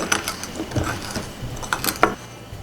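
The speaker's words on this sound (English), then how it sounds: "take an ordinary spoon and begin to grind the powder" An ordinary spoon grinds powdered match heads, giving quiet, irregular scraping and gritty clicks in short strokes with no voices.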